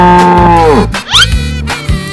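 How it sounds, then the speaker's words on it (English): A cartoon cow moos in one long, loud, drawn-out call, followed by a few more short animal calls close up with no talking. "Cow."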